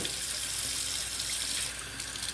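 Tap water runs steadily into a jar to rinse sprouting seeds, a close, even hissing splash with no talk.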